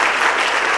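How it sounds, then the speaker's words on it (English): Audience applauding at a live stage event, a dense, steady burst of clapping filling the room, loud and close without gaps. "Could you all give him a round of applause?"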